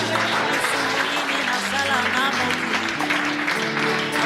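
A church congregation applauds at an orphanage inauguration in Pointe-Noire, Congo, a dense steady wash of clapping with voices mixed in throughout.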